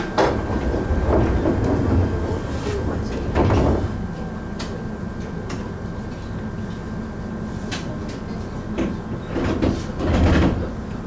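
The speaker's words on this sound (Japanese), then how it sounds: "ドアが閉まります。 ご注意ください。" Sliding doors of an Ohmi Railway train rumble and thud shut inside the carriage, a few clunks over steady cabin hum with no talk.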